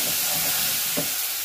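Maxixe hits a pan of sautéed garlic, giving a steady, close frying sizzle with a bright hiss and a brief crackle near the end.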